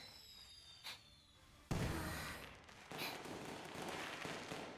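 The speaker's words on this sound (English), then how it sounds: "My god, it's an anime fireworks scene." Fireworks go off in an anime-style scene of the video game Limbus Company, a sudden loud burst followed by crackling and fizzing that rises again a second later, with faint whistling before the bang.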